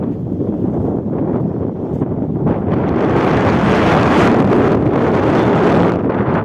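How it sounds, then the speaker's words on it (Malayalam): Strong wind buffets the microphone in a continuous roar that swells louder partway through, with no voices. "നല്ല വെയിലാണേലും നല്ല കാറ്റ് വീശുന്നുണ്ട്"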